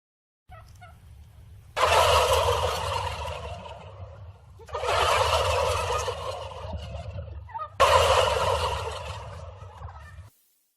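A turkey gobbles three times in loud, rattling bursts, each lasting a couple of seconds with short gaps between, close and clear with no talking.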